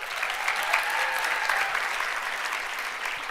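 Audience applause at the Sorbonne Université 2018 final of the MT180 science talk contest, a dense, even clapping from a large crowd that carries on steadily without voices.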